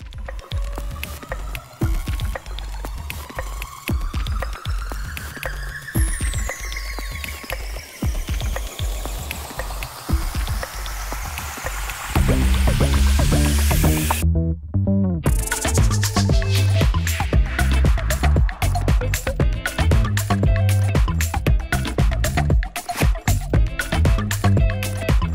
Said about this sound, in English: I hear water flowing.